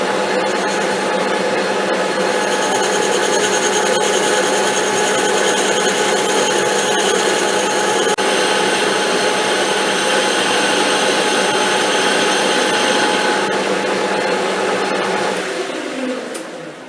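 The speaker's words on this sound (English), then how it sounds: "we've got the part mounted up in the reverse jaws on the 3-jaw chuck, so we can face the back off" A metal lathe faces the back of a part held in reverse jaws on a 3-jaw chuck, a loud, steady whirring cut with a bright tonal whine lasting about sixteen seconds before spinning down at the end, with no talking.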